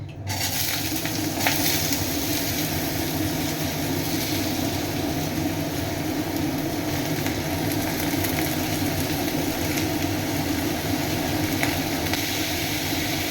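Pieces of pumpkin frying in hot oil tempered with black cumin and dried chili, a steady loud sizzle that continues unbroken and close throughout.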